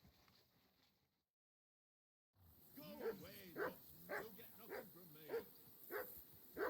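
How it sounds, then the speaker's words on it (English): A dog barking in the Kingdom Come: Deliverance 2 video game, with repeated loud barks in a steady rhythm after a brief silence and a voice talking faintly beforehand. "Do something with that mutt, Henry. It's doing my head in. Call that dog, Henry."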